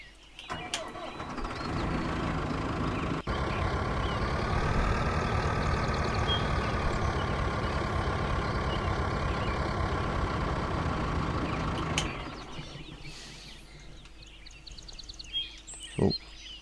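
A tractor engine in the farming game Cattle and Crops starts and runs at a steady, loud idle for several seconds, then cuts off and falls quiet, with a sharp click near the end.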